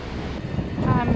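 Wind rushes over a microphone on a boat cruising between Waterford and Schenectady, New York, a close, steady rumbling buffet with a voice faintly beneath.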